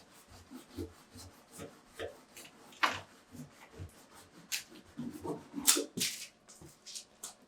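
Pastels scratch across paper in a drawing class, with scattered rasping strokes that build into denser, louder bursts of scribbling toward the end, close and alone without talk.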